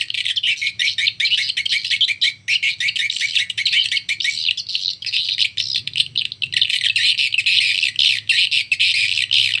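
Recorded swiftlet calls played to lure swiftlets: dense, continuous high chirping and twittering from many overlapping birds, loud and steady throughout with no talking.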